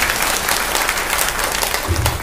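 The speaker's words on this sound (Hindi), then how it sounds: "ताली तो बजाओ" Audience applause at a spiritual discourse gathering in Kalyanpur, a dense steady wash of many hands clapping, loud and close, filling the whole stretch with no talk over it.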